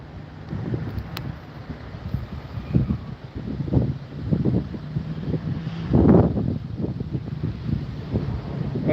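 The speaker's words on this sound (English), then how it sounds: "Okay, wind is now blowing east." Gusty wind blows across the microphone at an outdoor wildfire scene, loud rumbling buffets rising and falling in irregular surges, strongest near the middle, with no speech.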